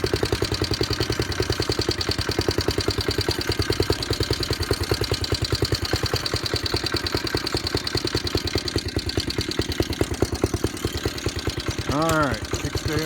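A small motorized bicycle engine idles steadily with a fast, even putter that runs loud and close throughout, and a brief rising whistle-like sound cuts in near the end.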